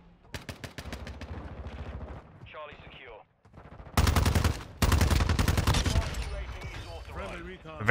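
Gunfire in the Modern Warfare 2 video game comes in rapid bursts shooting down helicopters, quieter at first, then two loud sustained volleys, with other game sounds between.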